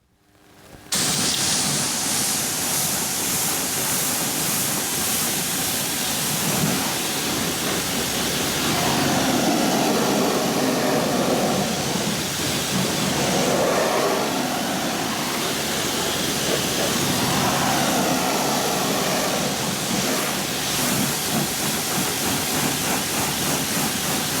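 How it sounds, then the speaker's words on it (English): A pressure washer rinses a car in one loud, continuous hissing spray that starts abruptly and carries on for over twenty seconds, swelling and shifting slightly as the jet moves. "it was thoroughly rinsed off with the pressure washer."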